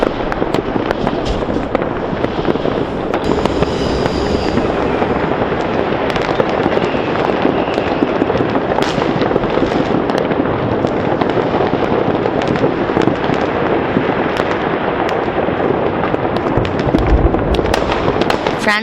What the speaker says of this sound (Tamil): புத்தாண்டு பிறந்ததும் வான வேடிக்கைகள் களை கட்டின.